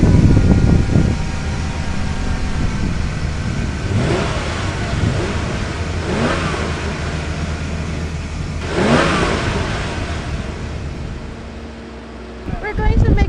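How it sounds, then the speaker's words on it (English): A vehicle stuck in deep, loose desert sand in Xinjiang's unmanned zone revs its engine in several strong surges, rising and falling over a continuous loud drone, close by, with people talking at times. "We soon find ourselves facing our first hurdle: a trapped vehicle."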